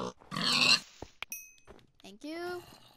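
Pig oinking in Minecraft, short grunty game animal calls mixed with other brief game sounds and a person talking over parts of it.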